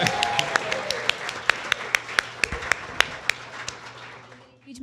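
Applause from a live audience at a PlayStation fan show, with a dense wash of clapping and distinct sharp hand claps standing out, tapering off toward the end.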